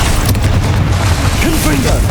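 The Bombarda spell in Hogwarts Legacy sets off a deep rumbling boom that fills the short moment, loud and close, with a faint rising magical tone near the end.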